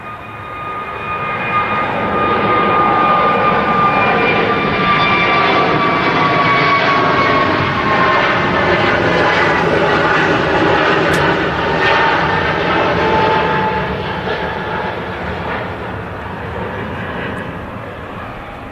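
An easyJet jet makes a late go-around at Manchester Airport, its engines roaring loud and steady at full thrust for the whole stretch, with a rising whine, before easing slightly toward the end.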